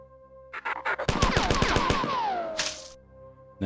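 Rapid gunfire in the 1994 video game Marathon: a few spaced shots, then a fast burst of automatic fire with a falling whine, ending in a hissing blast and one final shot.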